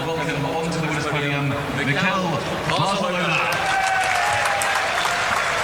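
A racecourse crowd at Ascot cheers and applauds after the King George VI and Queen Elizabeth Stakes, a dense roar mixed with clapping, and a commentator talks over it.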